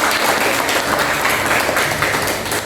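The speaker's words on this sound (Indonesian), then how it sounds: "Aplaus untuk semuanya." Applause from a group at the close of a session, steady dense clapping that holds evenly and loud for the whole stretch with no talk over it.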